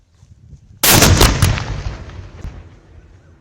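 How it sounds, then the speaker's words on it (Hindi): A single sharp firecracker blast bursts out loud and close, then decays in a rumbling tail with a few faint crackles after. "ये तो पटाखा था"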